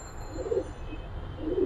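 Hammer pigeons in a loft give soft, low coos in two brief murmuring bursts, close but faint over a steady background hum.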